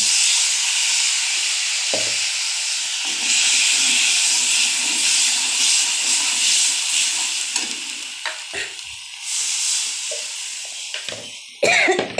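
Water splashed into a hot pan while cooking dal sets off a loud, steady hiss of steam and sizzling that fills the whole stretch, with a few brief knocks and stirring sounds near the end.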